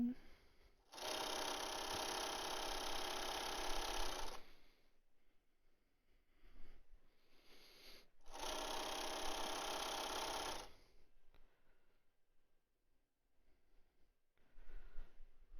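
A sewing machine back stitches a fabric mask in two loud, steady whirring runs of a few seconds each, separated by quiet pauses with small handling sounds, ending with a brief restart.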